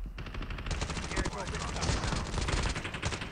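Rapid automatic gunfire from hip firing in Call of Duty Mobile battle royale, a dense, continuous rattle of shots lasting throughout with steady loudness and faint game ambience beneath.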